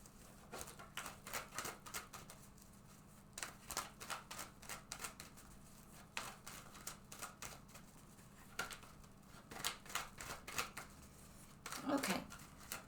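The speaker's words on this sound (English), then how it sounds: "I'm going to shuffle this deck several times" A deck of tarot cards shuffled repeatedly by hand, giving a run of quick riffling and slapping bursts close to the mic, with brief pauses between shuffles and no talking.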